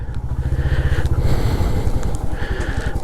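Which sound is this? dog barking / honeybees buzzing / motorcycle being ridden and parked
motorcycle being ridden and parked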